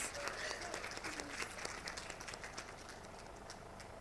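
A seminar audience at an international medical sciences event applauds to welcome a speaker, a dense, faint, distant patter of many hands clapping continuously.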